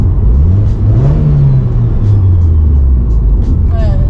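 A turbocharged Subaru STI engine rumbles and revs up and down, loud and close, with a steady low drone throughout and a rising whine near the end.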